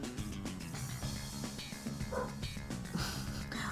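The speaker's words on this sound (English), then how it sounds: "Why are my dogs yelling?" Several dogs barking and yipping excitedly in a home, with overlapping barks and whines continuing throughout at moderate loudness behind other background sound.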